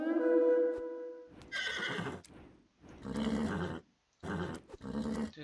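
A horse in the video game Age of Mythology gives a loud whinny, followed by several harsher, growling bursts of neighing separated by short silences, all clean and close with no voices.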